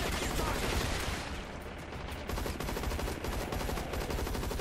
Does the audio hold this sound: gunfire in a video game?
yes